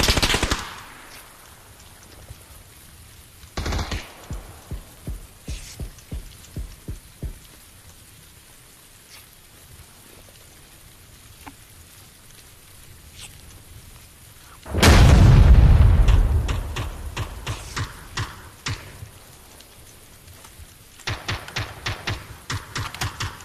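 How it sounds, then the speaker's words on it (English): Gunfire rings out in an online squad shooter game. Bursts of rapid automatic fire come in short rattling volleys with silent gaps between them, broken midway by a loud, booming blast. No one speaks. "That guy shooting at you guys?"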